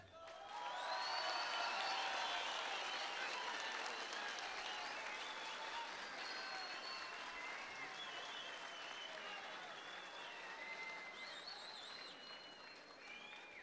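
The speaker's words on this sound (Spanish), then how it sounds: "Démosle un fuerte aplauso a todos los beneficiados" A large outdoor crowd at a livestock credit handout led by the Mexican president in Macuspana, Tabasco claps steadily for over ten seconds, with faint cheers and whoops mixed into the distant-sounding applause.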